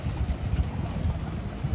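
Pigeons coo in a low, throaty murmur under a dense, noisy background rumble, with soft repeated calls running through the short stretch.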